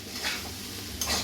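Spices sauteing in a pan for a cabbage dish, a soft constant sizzle broken by two quick scraping strokes of a spoon, close but fairly quiet, with no voices.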